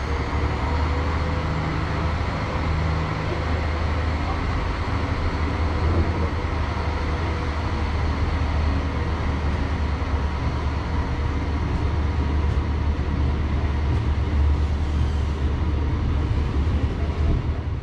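Steady, continuous rumble of a mainline passenger train travelling from Olomouc toward Krnov in the Czech Republic, heard from inside with constant low wheel and track noise and no talk.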